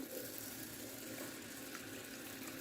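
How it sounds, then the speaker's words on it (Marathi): Steady rushing of drinking water poured from a tap into a vessel of washed rice, continuous and close, with no talking. "आता आपण याच्यामध्ये पिण्याचं पाणी टाकून घेऊ"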